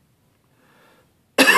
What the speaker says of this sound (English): I have a really bad cold right now, and I'm coughing a whole lot.